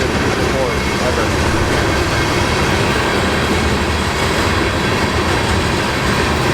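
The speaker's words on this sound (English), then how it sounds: "Never seen like a train up close to before, ever." Train passing at very close range, a loud continuous roar and rumble of rolling railcars with steady clatter, dense and unbroken throughout.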